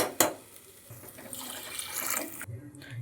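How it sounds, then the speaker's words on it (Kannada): About six glasses of water pour into a pot of sweet pongal with a splashing, gurgling rush, preceded by a brief clank, then stops abruptly near the end. "ಈಗ ನಾನು 6 ಲೋಟ ಆಗೋಷ್ಟು ನೀರು ಸೇರಿಸ್ಕೊತೀನಿ ನೋಡಿ."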